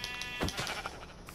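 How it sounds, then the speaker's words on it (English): A single Minecraft sheep bleats briefly, a short wavering baa close by over faint game ambience. "there's some sheep, so we're gonna get these sheep"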